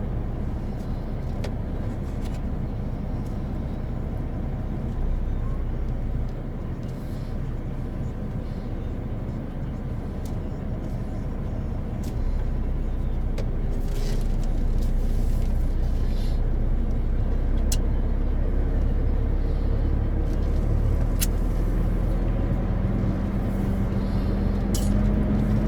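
A long-haul truck loaded with glass pulls away, its diesel drone rumbling low and steady, building in loudness partway through as it gets moving.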